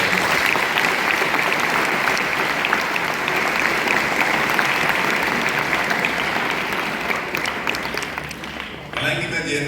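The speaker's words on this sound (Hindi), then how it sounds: "एक बार जोरदार ताली बजाइए।" At a Navodaya Foundation Day celebration, a large crowd of students and guests claps loudly and steadily for several seconds before the applause drops off abruptly near the end, with voices underneath.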